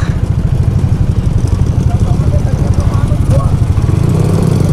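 Motorcycles and other vehicles idle and rumble in slow town traffic in Maguindanao, a loud, steady low engine drone that stays close throughout with no break.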